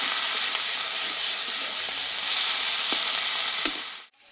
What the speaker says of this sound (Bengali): এই লবণটা দিয়ে মশলাটাকে ভালোভাবে কষিয়ে নেব